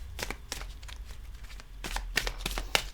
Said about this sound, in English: Now for the shuffle test.